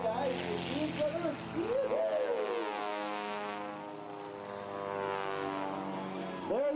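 Propeller aircraft engines at an airshow roar during an opposing rolling takeoff by Team Rocket, sustained and droning with rising and falling pitch as the planes accelerate. A steady, fairly distant rumble plays under occasional voices.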